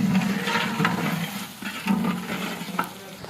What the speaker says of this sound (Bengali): প্রথমে রসুন দেয়া হয়েছে। আবারও কিছুক্ষণের জন্য ভেজে নেওয়া হচ্ছে।